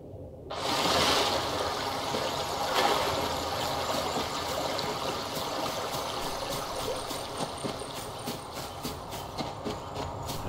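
Flowing stream water in the Rust video game, a steady, close, rushing wash that starts abruptly and continues without break, with no talking.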